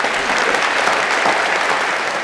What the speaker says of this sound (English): I think we ought to give one more round of applause to our wonderful performers who've done such a fantastic job tonight